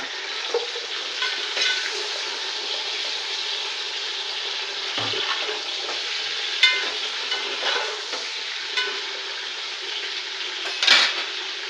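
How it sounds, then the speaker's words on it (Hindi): Chicken pieces going into onions already fried pink in hot oil for chicken pulao, giving a steady close sizzle with occasional stirring scrapes and the clink of a pan or utensil, with no talking. "प्याज हमारा गुलाबी हो चुका है प्याज। अब उसमें हम चिकन डाल देंगे।"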